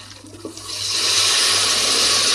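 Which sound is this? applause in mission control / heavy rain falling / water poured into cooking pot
water poured into cooking pot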